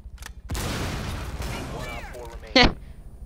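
An explosion bursts in the video game Rainbow Six Siege, a loud broadband blast followed by ringing debris and a sharp crack near the end, with a person talking underneath.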